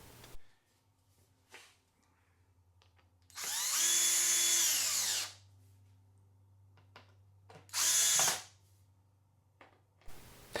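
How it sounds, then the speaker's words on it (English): Power drill driving wood screws into electric guitar body blanks, two loud whirring bursts of a couple of seconds and about one second, separated by quiet workshop hum, with no talk. "I'll tighten the wood screws which will hold the pieces together as I prepare to clamp them"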